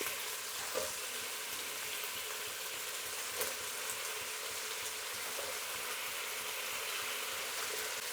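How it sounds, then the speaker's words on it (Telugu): Vegetables fry in a hot pan while sambar is being made, giving a steady, soft, continuous sizzle and crackle with a few faint clinks, close and even throughout, with no talking. "ఇప్పుడు కూరగాయలు వేసుకుందాం."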